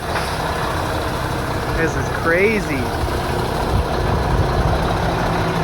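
Idling diesel engines of ready-mix concrete trucks on a garage-build job site, a low steady rumble with a brief hiss of air brakes, while someone speaks briefly over it.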